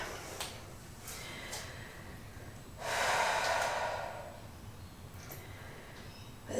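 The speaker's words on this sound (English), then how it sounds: "Take another couple of breaths here." Slow deep breath during a yoga flow, a long airy inhale or exhale swelling in the middle of the clip between quieter breaths, close and unhurried in a calm room with no talk.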